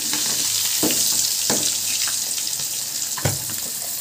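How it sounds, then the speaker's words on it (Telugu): Fish pieces fry in a pan of oil, giving a steady loud sizzling hiss broken by occasional sharp spatters and utensil knocks as the pieces are turned. "ఇప్పుడు బాగా ముక్కలు నూనెలో బాగా వేగాలండి."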